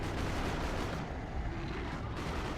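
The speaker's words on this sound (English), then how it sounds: "Down goes that looted tank." Looted tank destroyed in Dawn of War 2, a dense rumbling explosion amid constant heavy battle noise of artillery and gunfire, loud and sustained throughout.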